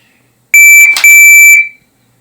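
A shooting timer gives one loud electronic beep lasting about a second, a bright steady tone with harmonics, alone on a quiet range during holster draw practice.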